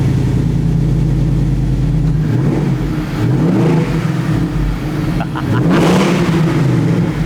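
Nissan Y62 Patrol fitted with a new supercharger, its engine loud and steady at a smooth idle from the start, with a brief rev swell near the end.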